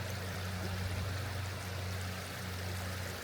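A small river flows steadily in the Boscastle area of Cornwall, a soft, even rush of water heard faintly and without a break.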